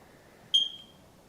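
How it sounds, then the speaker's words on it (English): A smoke detector gives a single short, high-pitched chirp that fades quickly, moderately close, over a quiet indoor background. "And I'm hearing that squeaking sound,"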